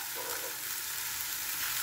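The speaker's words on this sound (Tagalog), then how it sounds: "Ilagay ko na yung aking tatlong isda." Three fish fry in a pan with a steady, bright sizzle, close and even throughout, no voices over it.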